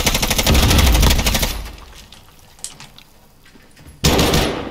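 Shotgun blasts in the video game Call of Duty: Warzone, a loud burst of rapid shots that fades into quiet, then another sharp blast near the end.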